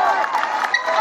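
Carnival crowd cheering and applauding at a 2023 carnival committee announcement, a steady dense wash of clapping and shouts with voices mixed in throughout.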